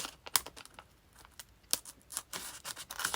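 Scissors snip along the edge of a paper tag in a quick series of small crisp cuts and rustles, close and quiet, with no one speaking.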